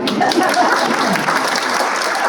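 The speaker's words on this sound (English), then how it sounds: "Now you can clap for him." Steady applause from a crowd at the 2022 Paul Robeson Award ceremony, dense and continuous clapping at full volume throughout, without pauses.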